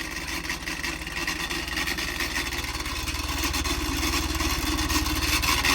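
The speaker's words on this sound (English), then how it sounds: "if it'll just fire up on its own and idle." A 1200cc engine on a dyno stand catches and settles into a steady idle, a continuous low mechanical drone with a faint rhythmic pulse that grows slightly louder, heard alone without talk.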